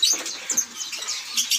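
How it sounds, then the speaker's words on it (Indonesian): A prinia bird makes quick, high chirping calls in short bursts, close and fairly clear, with faint rustling and patter underneath. "Wah, tuh perenjak tuh."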